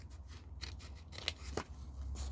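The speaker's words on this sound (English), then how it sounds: "then we're going to snip this off this time" Scissors snipping paper while making Christmas crackers, a few soft close snips and slides of the blades at low volume, with no talk.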